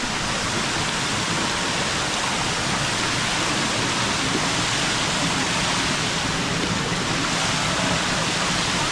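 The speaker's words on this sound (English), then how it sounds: "Level 5 is actually the biggest waterfall here." A waterfall in Cebu, Philippines roars in a steady, dense rush of water, loud and unbroken throughout.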